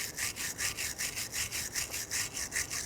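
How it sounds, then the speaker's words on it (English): A flat file scrapes rust off a brake bracket on a Nissan Frontier in a quick, even run of about a dozen back-and-forth strokes, moderately quiet and close, with no talking. "If there is chunky rust on there, go ahead and use a flat file"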